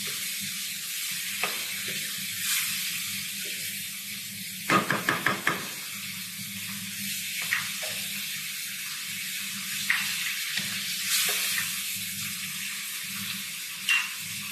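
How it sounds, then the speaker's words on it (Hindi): Urad dal frying with spices in a pan, a steady bright sizzle running throughout, broken by a quick burst of knocking spoon or pan taps and occasional clinks of stirring. "मसाले के साथ इसको 2 मिनट भून के इसमें मैं 1 गिलास पानी ऐड करूँगी।"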